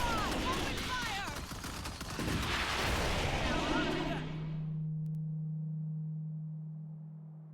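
Dense, sustained video-game squad gunfire from a Soviet infantry unit, crackling and rolling for several seconds under scattered voices before cutting off abruptly and giving way to a steady low electronic tone.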